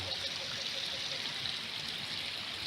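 Stream water flowing steadily at Ambon-Ambon Falls, a continuous soft hiss and trickle with no talk over it.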